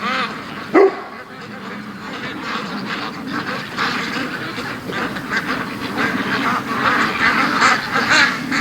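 A small flock of ducks quacks and chatters continuously outdoors at close range, with one sharper call near the start.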